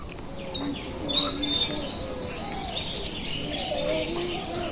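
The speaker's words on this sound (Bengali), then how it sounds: "পাখির ডাক কিচির মিচির কিচমিচির ডাক" Assorted birds chirp and call around the listener, a few soft cooing notes among higher tweets, with faint voices murmuring underneath.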